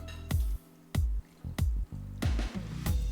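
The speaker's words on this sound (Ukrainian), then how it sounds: "Заливаємо сухим вином." Dry wine glugs from a bottle over lamb seasoned with black peppercorns and allspice, in about five gurgling pulses, close and fairly quiet.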